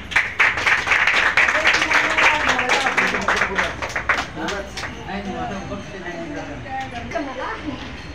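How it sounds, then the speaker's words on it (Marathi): Applause from an audience at a Republican Party of India (RK) speech event, dense clapping loud for the first four seconds, then thinning out while voices talk over it. "टाळ्यांचा गजर झाला पाहिजे."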